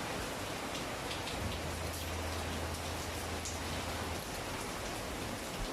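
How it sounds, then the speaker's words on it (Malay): Heavy rain falls outdoors in a dense, steady hiss with scattered drops striking surfaces nearby, loud and continuous for the whole stretch, with no voices. "sorry lah dalam hujan lebat pula, ingatkan tak lebat"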